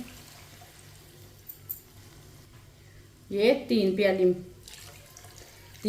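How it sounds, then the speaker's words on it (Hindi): Water pours from a cup into a pot of macaroni, a faint trickle followed by a short, louder stream, while someone speaks briefly over it. "अब इसमें पानी डाल लेंगे।"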